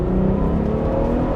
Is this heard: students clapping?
no